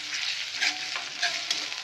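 Onion and ginger-garlic paste fry in a pan for Mughlai chicken, a steady close sizzle broken by a few soft stirring scrapes.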